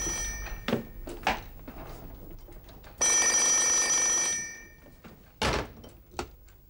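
A telephone bell rings indoors in one loud, sustained burst, with door thuds and knocks before and after it.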